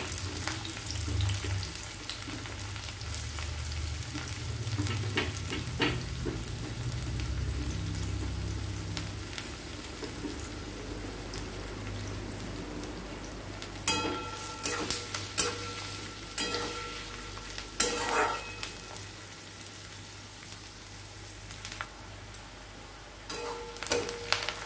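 Onions frying in oil for a Bengali chicken curry, a continuous soft sizzle that runs throughout, joined later by scattered clinks and scrapes of stirring.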